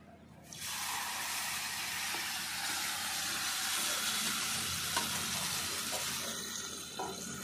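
Ground taro leaves and shrimp hitting hot oil seasoned with nigella seeds for a Bengali kochu pata bhorta, a loud, steady, broad hissing sizzle that starts abruptly and continues without a break.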